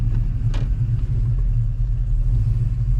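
A truck's engine rumbles steadily as it drives slowly around the block on old gas, a close, continuous low drone with a brief higher swell early on.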